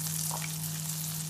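Bacon, onion, garlic, rosemary, thyme and sage frying in a hot pan, a dense continuous sizzle with a steady electrical hum underneath, close and even, no voices.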